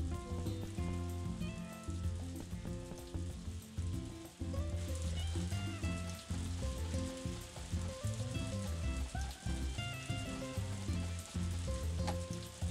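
Fish frying in butter in the Story of Seasons farming video game makes a steady, dense sizzle and crackle. Light game music plays underneath and carries on throughout, with no voices.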